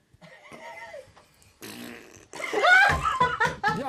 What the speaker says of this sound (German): jetzt kommt Furz Lauchwehen.